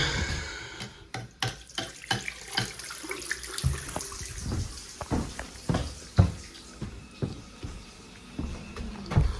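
Hot water runs from a tap fed by a boiler, a fairly quiet, irregular splashing and gurgling flow with scattered clinks and knocks in the sink, steady throughout.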